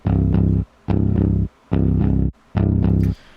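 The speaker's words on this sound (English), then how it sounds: "So this guitar, the DI, it just sounds like this." A clean, dry, unprocessed DI electric guitar plays four short chord stabs with brief silences between them, each strum loud and close.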